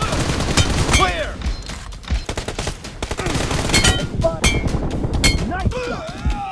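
Rapid bursts of automatic gunfire and sharp single shots ring out in a shooter video game, loud and dense throughout, with a voice speaking over the shooting.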